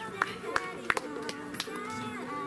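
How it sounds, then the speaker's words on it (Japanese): An audience at a live stage event gives a round of applause, scattered claps popping out over a murmur of voices and background talk, fairly faint throughout. "もう一回スパさん拍手お願いいたします"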